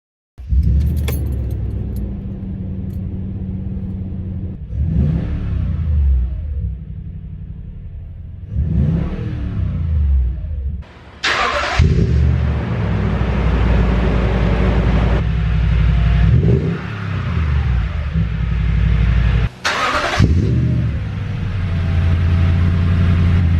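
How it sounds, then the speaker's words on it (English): A Toyota Tundra pickup truck with a TRD dual exhaust cranks and starts with a sharp burst, then rumbles loudly at idle with several deep revs rising and falling, close by. "this again is the TRD dual exhaust"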